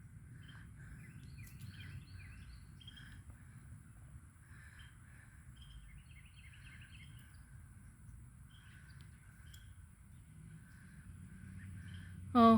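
A crow calling outdoors, with repeated harsh, agitated caws scattered across the stretch at moderate distance over a steady low background hum.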